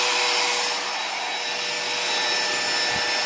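A small hobby CNC router's spindle runs at a steady high-pitched whine with a broad airy hiss, loud and continuous with no cutting or voices.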